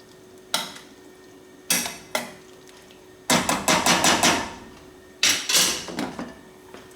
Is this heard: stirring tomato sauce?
yes